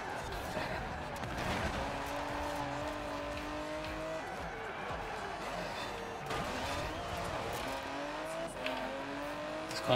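A 2019 Aston Martin DBS engine in Forza Horizon 4 accelerating hard on a top-speed run, rising revs climbing through gear changes, steady and fairly close with a voice speaking over it.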